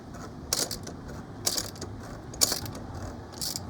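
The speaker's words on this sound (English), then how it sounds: "you're gonna tighten our filter" A ratchet tool tightening the oil filter housing cap on a BMW E60 5 Series with an N52 engine, with close, crisp bursts of clicking at a steady, spaced-out pace.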